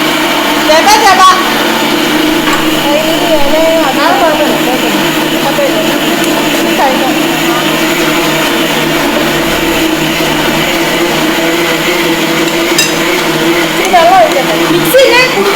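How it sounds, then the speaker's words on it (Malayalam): A mixer grinder whirs steadily as it blends a homemade hair pack, a loud, constant motor drone that runs the whole time with slight shifts in pitch. "മിക്സിനെ കുടുകുടുകുടുകുടുന്ന് ആക്കണം"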